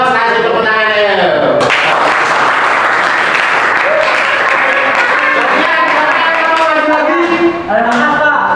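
Applause breaks out in a classroom quiz game, a loud continuous burst of clapping from a group of students lasting several seconds, with voices heard before it begins and again as it fades.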